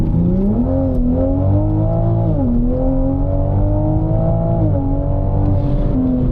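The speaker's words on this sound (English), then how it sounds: "That is one of the best sounding exhausts I think I've ever heard." A loud sports car exhaust drones and revs up close, its deep tone rising and dipping through gear changes, steady and unbroken.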